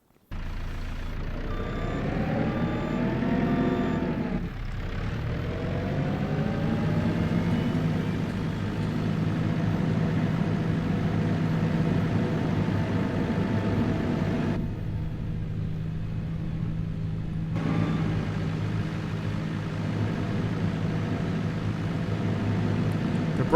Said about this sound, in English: let's get the skid steer fired on up and get right to it